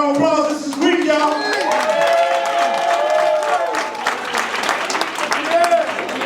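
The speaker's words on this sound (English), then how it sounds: "Y'all give him a round of applause." An audience claps and cheers for Reed at a black-and-white themed community gala, the applause running throughout while sustained musical tones and crowd voices sound underneath.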